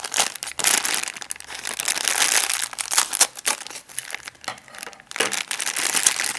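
Continuous crinkling and crackling of plastic packaging being unwrapped close by from a Pokéball figurine gacha display box, with bursts of louder rustling and brief pauses between handfuls.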